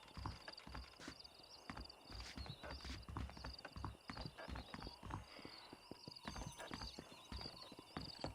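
Steady clip-clop of horse hooves walking on hard ground in the video game Red Dead, continuous and fairly close, with a brief whinny and faint background ambience.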